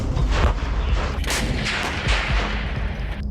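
Caesar howitzer artillery firing shells in the war in Ukraine: loud, broadband booming blasts with rumbling echoes, one big report near the start and more following, with no voices.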